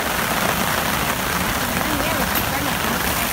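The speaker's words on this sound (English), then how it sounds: "Well, we got a nice little rainstorm." Steady rain falls on a campsite at Lincoln State Park, Indiana, a dense continuous hiss of drops on surfaces and a tarp, loud and close, with faint talk buried underneath.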